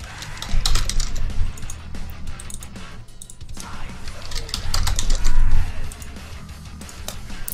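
Fingers type a folder name on a computer keyboard in quick irregular bursts of close, crisp key clicks, with a brief pause in the middle before the tapping resumes.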